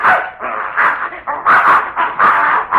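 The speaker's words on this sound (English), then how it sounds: "I'll be darned, there's that mad dog Adolf." A mad dog barks close and loud in a rapid run of harsh barks and yelps, alone and without talk.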